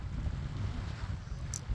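Strong wind buffets the microphone in a steady low roar on a beach in Oslo, Norway, in April, with a faint wash of sea in the background and no voices.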